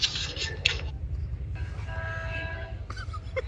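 An approaching train sounds several loud horn blasts over a steady, low rail rumble, close by and with no talk.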